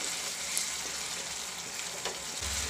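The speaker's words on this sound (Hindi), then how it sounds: "मसालों के साथ टमाटर अच्छे से भून लें" Ground tomatoes frying with spices in a pan for matar paneer, a continuous soft sizzle and bubbling, close and moderately quiet throughout.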